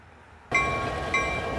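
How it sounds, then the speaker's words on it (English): A Canadian National freight train rolls past a road crossing near 9 Mile and Hilton Road in Ferndale, starting abruptly as a loud, steady rumble and rattle of railcars with a high metallic ring, swelling again near the end. "It's a Canadian national freight train passing 9 Mile near Hilton Road."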